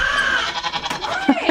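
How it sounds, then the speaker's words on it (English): A small goat bleats twice in short cries on a farm while someone talks over it outdoors. "She's one of my favorite little goats."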